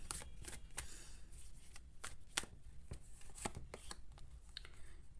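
Tarot cards being shuffled by hand, a continuous crisp riffle of fluttering card edges with quick snappy bursts, close and quiet, with no talk.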